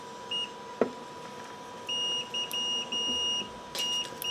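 A Fluke 101 pocket multimeter in continuity mode gives a thin electronic tone, first in short blips, then in several longer sustained beeps, close and clear over quiet room noise.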